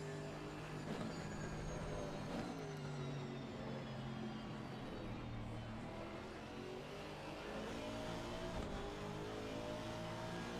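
GT race cars, including a Lamborghini, at Mount Panorama in Assetto Corsa Competizione, their engines droning steadily at high revs and shifting pitch as they accelerate, fairly faint and continuous throughout.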